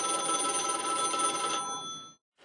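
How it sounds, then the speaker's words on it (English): An old 1980s telephone on a police crime tip line rings with a continuous metallic bell trill. The trill is loud and close, then stops abruptly and leaves silence. "And that's our crime line that's ringing."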